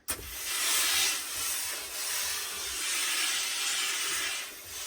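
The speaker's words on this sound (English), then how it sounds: "then introduce the steam again" Steam hisses steadily onto a Borsalino fedora during a hat restoration, a continuous close breathy rush that swells and eases slightly for several seconds.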